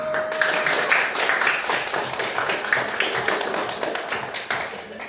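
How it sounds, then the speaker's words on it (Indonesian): A classroom group claps hands together for the first team, a steady, dense patter of close claps lasting the whole stretch, with a brief faint tone near the start. "Tepuk tangan untuk kelompok 1"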